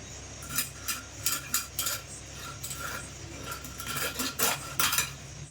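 Knife work on a large three-kilogram silver carp as the belly piece is cut away, with repeated close metallic scrapes and clinks on a hard surface in an irregular rhythm, and nobody talking.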